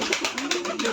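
Pigeons in a backyard coop coo loudly and close by, a continuous soft throaty warbling with overlapping calls filling the whole moment.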